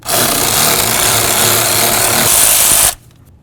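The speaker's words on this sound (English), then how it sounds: "I'm going to remove that bolt." A powered tool buzzes loudly and steadily for about three seconds, close up, while taking out the bracket mounting bolt on a 1994–2004 Chevy S-10 during fuel injector work, then cuts off abruptly to near quiet.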